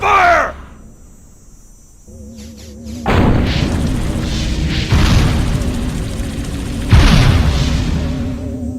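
Explosions and gunfire in the alien-invasion video game Destroy All Humans! arrive as loud, sustained booming blasts, starting after a brief quieter stretch and rolling on in heavy, overlapping bursts.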